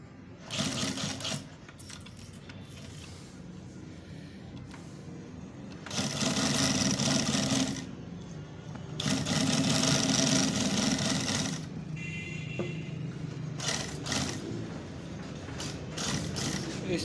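A domestic sewing machine runs in several bursts of stitching at a tailor's bench, with a couple of long, loud runs and shorter starts and stops between quieter handling noises.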